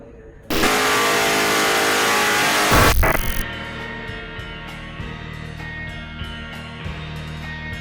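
A Hemi-engined car snaps into a loud, harsh rev that holds for a couple of seconds and then cuts off sharply. A lower idle rumble follows, with a voice speaking over it.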